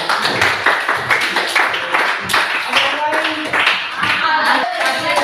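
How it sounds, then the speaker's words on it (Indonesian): Children clapping together in a classroom, a brisk, uneven patter of many small hands that stays steady and close throughout, with a faint voice or two mixed in. "silakan beri tepuk tangan"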